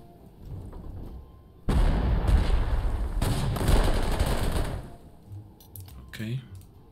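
Infantry attacks an anti-tank gun in the Panzer Corps 2 strategy game: a loud burst of gunfire and explosions erupts suddenly and rolls on for about three seconds before dropping back to a quiet background.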